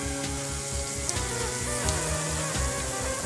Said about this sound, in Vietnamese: Bạn thấy nóng đang sôi không?